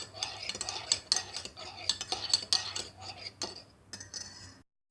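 A spoon stirs hot coffee in a cup, with steady clinking and scraping strokes close up, alone, ending in silence.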